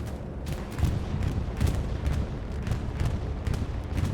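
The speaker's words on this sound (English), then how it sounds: "This is a Chimera bombing run going over the alleyway." A bombing run rumbles in Hell Let Loose, with a continuous barrage of deep booms and crackling explosions rolling over an alleyway, dense and distant-sounding throughout.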